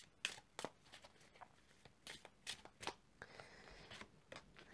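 A card drawn from a deck during a tarot-style reading, several soft, close shuffling and flicking rustles of handled cards in quick irregular bursts, with no talk.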